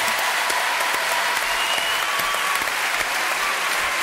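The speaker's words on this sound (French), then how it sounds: "Applaudissements" Steady applause from a television studio audience, a continuous, even wash of many hands clapping at moderate loudness from start to finish.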